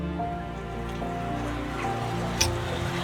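Steady rain falling in the city of Gothenburg, Sweden, near a canal with boats, a continuous close hiss of drops with a brief louder patter near the end, no voices.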